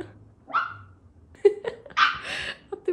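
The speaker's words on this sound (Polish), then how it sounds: "Zobaczcie tego psa, to jest..." A dog barks and yips in short bursts indoors, a few sharp close barks separated by pauses, with a faint whimper in between.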